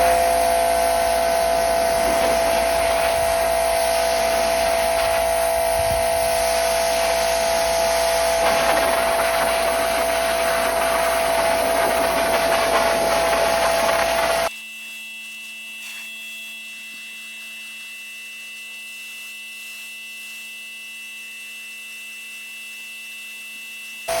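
A Bauer 2300psi electric pressure washer spraying through a 15-degree nozzle makes a loud, steady hissing roar with a motor hum for about fourteen seconds, then cuts off abruptly, leaving a quieter steady electrical hum.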